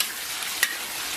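Pixian chili bean paste and chili sauce stir-fry in oil over low heat with scallion and ginger, giving a steady close sizzle with one brief scrape of the spatula.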